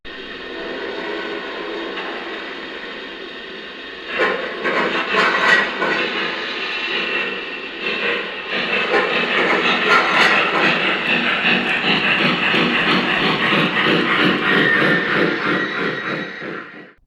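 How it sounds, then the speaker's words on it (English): A Lionel VisionLine N&W Class A model locomotive starts off with a steady mechanical rumble, creaking and a clunk of coupler slack, growing busier and louder as it gets moving. "When you set off with this engine, there's this awesome creaking noise and a coupler slack sound"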